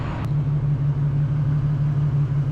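Infiniti G37 driving at night, a steady low engine drone at cruising speed, close and continuous with no talk.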